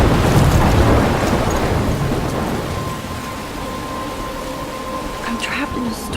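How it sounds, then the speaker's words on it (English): Stormy weather in the video game Life Is Strange, with steady heavy rain and a deep rumble of thunder that is loudest at first and slowly eases off over several seconds. "I'm trapped in a storm?"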